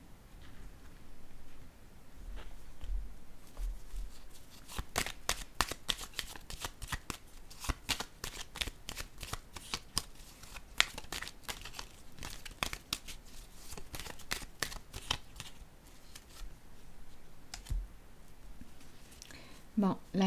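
Cards handled and shuffled for a card reading, a long run of rapid riffling and flicking bursts at close range, with soft speech intermittently beneath.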